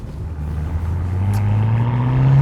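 A 2016 BMW M6 Competition Package accelerating on the road, its engine note climbing steadily in pitch and growing louder over a couple of seconds, close and continuous with no talking.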